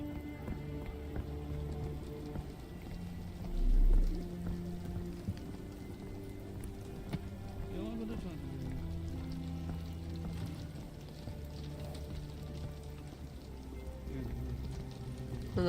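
Rain patters steadily in a video game, a soft continuous drizzle with a low thump near the start and faint background game sounds.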